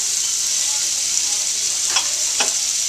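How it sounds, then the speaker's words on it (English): Onions and andouille sausage sauté for jambalaya in a hot pan, a bright steady sizzle close up with a couple of quick scraping tosses near the end. "The key to sauteing, once again, is to keep everything moving at all times so nothing sticks at the bottom"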